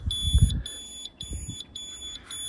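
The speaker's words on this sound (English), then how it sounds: "you can turn on an alarm" Rapid high-pitched electronic beeps from a pet tracker alarm repeat in short regular bursts, with soft thumps and handling noise underneath.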